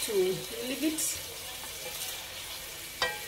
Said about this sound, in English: it is well fried. It has absorbed oil well enough, and the onions